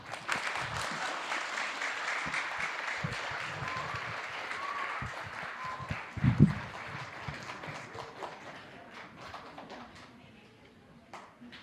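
An audience applauds presenters of Filipino leaf weaving at a cultural sharing event in Happy Valley-Goose Bay, a crowd of clapping that swells to a brief loud burst midway and then tapers off to faint scattered claps.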